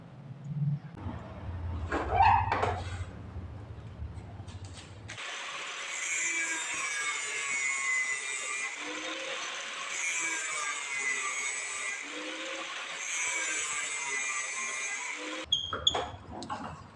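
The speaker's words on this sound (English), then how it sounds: "And I'll use the angle grinder to cut down on each marking." An angle grinder cuts saw teeth into a steel blade for a handmade flush-cut saw. A steady, loud, high whine runs unbroken for about ten seconds, with brief handling knocks before it and after it.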